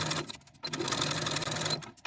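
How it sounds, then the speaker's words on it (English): A sewing machine basting a velvet dress sleeve with a long stitch, its steady close mechanical whir running in two continuous stretches split by a brief pause. "Now we're going to take it to the sewing machine and baste as pinned from one side to the other"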